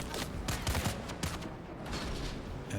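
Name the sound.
gunfire in the video game Dune: Awakening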